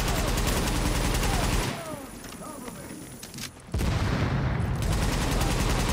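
Gunfire in The Division video game: dense bursts of shots and booms fill most of the span, loud and close, with a brief lull in the middle and faint voices mixed in.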